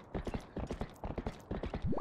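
Horse hooves clip-clop in a steady galloping rhythm in The Legend of Zelda: Twilight Princess, close and clear, with a short whinny at the end.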